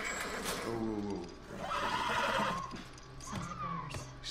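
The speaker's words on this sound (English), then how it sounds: "Stay with the horse." A horse in the video game The Last of Us Part II whinnies in a long, wavering call, followed by a second shorter neigh, alongside some talking.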